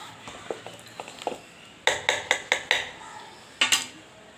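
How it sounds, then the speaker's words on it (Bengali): A lid set down over a clay cooking pot (sara) during cooking: a quick run of hard, ringing clinks and knocks in close succession, then one more pair of clacks a moment later, close by. "ঢেকে দেবো এই ঢাকনাটা দিয়ে, ঢেকে দিলাম।"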